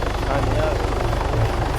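A helicopter flies in a video game with a loud, steady rhythmic rotor chop throughout, with voices talking over it.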